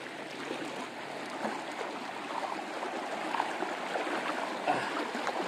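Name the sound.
strong river current flowing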